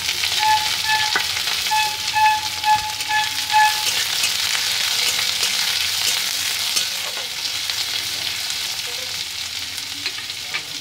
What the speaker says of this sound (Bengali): এর মধ্যে দিয়ে দেবো পেঁয়াজ কুচি আর লঙ্কা কুচি